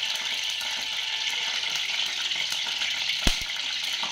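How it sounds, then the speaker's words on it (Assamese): Night jasmine leaves coated in gram flour batter fry over a low flame in refined oil, giving a continuous, even sizzle with one brief sharp clink near the end. "কম জুইত ভাজি ল'ম, মচমচীয়া কৰি ভাজিম।"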